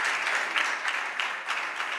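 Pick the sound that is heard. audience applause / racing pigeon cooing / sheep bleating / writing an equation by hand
audience applause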